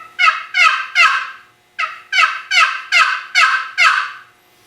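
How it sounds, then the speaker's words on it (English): A Mann Made turkey box call, worked left-handed with short strokes, gives about nine loud, raspy yelps close by. They come as a quick set of three, a brief pause, then a steady run of six, with no talking. "you get more of a gobbler yelp in there than you are a hen yelp"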